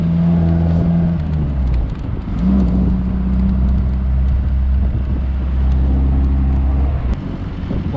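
A 1954 MG TF classic sports car drives along an open road, its engine droning loud and close with a shift in pitch partway through, no talking.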